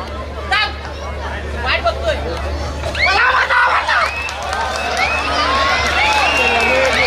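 Spectators at a community kabaddi tournament cheer and clap in a noisy outdoor crowd, a steady roar rising and falling while an announcer's amplified voice talks over the babble.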